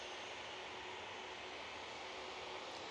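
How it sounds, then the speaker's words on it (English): A Boeing 737-800 airliner takes off from Manchester Airport, a steady broad engine roar heard at a distance that holds constant for the whole stretch. "737-800 is now off to Cologne"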